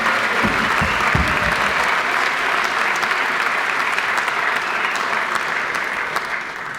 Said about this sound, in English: Please give them a great big round of applause.